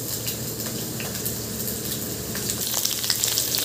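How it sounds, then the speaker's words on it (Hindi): Cauliflower fries in hot oil in a kadai with whole spices and a bay leaf, a steady close sizzle with crackling pops. "गोभी को मुझे लाल फ्राई करना है।"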